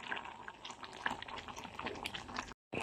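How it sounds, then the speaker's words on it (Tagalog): Jackfruit chunks boil in a pot of water with a steady, busy bubbling and gurgling that runs without a break before cutting off abruptly near the end. "Pinapakulo ang langka."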